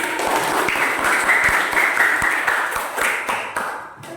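Audience applause at an academic supervision coaching session, as a participant is called forward; steady dense clapping from a room of people, fairly loud and continuous, tapering toward the end.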